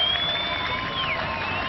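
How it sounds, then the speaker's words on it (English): Warm applause and crowd noise from fellow players and Dutch fans at a cricket ground during the India vs Netherlands 2003 World Cup match, a steady broad wash of clapping throughout. "Warm applause from his fellow players, and there are a lot of Dutch fans here in the ground who've enjoyed the innings as well."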